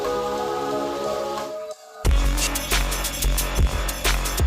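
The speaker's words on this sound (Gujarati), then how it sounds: "જો મિત્રો વરસાદ ચાલુ થઈ ગયો છે પાછો" Rain falling outdoors in a small Gujarat town, Kheralu, first faint beneath a tonal background, then suddenly loud and close as a dense patter with sharp drop hits on nearby surfaces.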